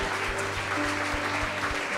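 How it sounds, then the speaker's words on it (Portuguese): Steady applause from a church congregation, fairly loud, with a rhythmic low thumping beneath it and no speech. "Eu peço que a igreja possa dar um aplauso ao Senhor pela vida desse irmão"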